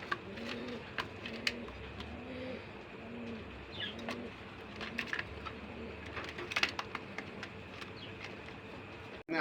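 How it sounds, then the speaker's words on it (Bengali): Domestic desi Golla pigeons in a farm loft give repeated low, soft coos in a steady rhythm, with occasional light chirps and small rustles nearby. "আরেক জোড়া কবুতর আছে আমাদের দেশীয় গোল্লা"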